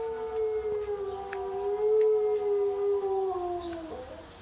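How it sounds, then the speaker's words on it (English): A dog howls in long, sustained, wavering tones, close and clear, joining a muezzin's call to prayer at Asr time, its voice gliding down at the end. "Joy loves to call the adhan with the mueddin"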